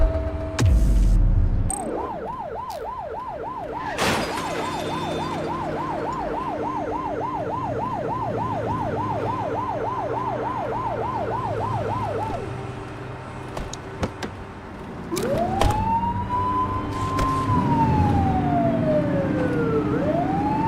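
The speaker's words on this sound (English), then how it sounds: "You're only meant to use the siren in emergencies." A police car siren in the video game The Precinct wails in a rapid, steady yelp for about ten seconds, then pauses and returns as slower rising and falling sweeps, loud and without talk.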